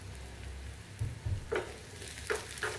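Chopped onion and green peas frying in mustard oil on a gas stove, a steady soft sizzle with a few stirring knocks and scrapes, quiet and close with no talking.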